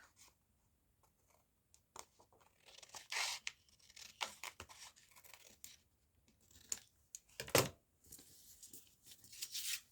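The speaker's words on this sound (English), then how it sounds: "Just going to cut a piece off." Paper or card stock being cut with scissors for a handmade ANZAC-themed craft tag in gold and orange, a few quiet irregular snips and crinkles building to one sharp tearing cut near the end, close up with no talk.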